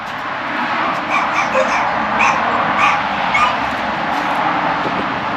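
Several dogs bark and yip in short, scattered bursts over a steady background rumble, fairly close and moderately loud.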